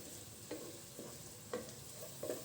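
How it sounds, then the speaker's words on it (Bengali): Bay leaf, cardamom and cloves stir-fried in a pan for chicken biryani, with a steady low sizzle broken by a few distinct scraping stirs of a spoon at irregular intervals, close and fairly quiet, no talking. "এটাকে একটু নেড়ে চেড়ে রান্না করব"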